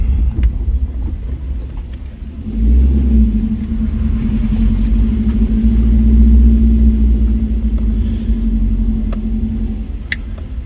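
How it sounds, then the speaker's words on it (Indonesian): A motorbike engine approaches on a winding mountain road toward Takapala waterfall in Malino, Gowa. The rumble swells suddenly after a quiet start, then hums steadily with a low droning tone before easing slightly. "Kayak ada motor."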